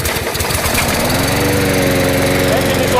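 A walk-behind lawn mower engine runs loud and close, starting with rough chugging pulses that settle into a steady droning hum for the full length.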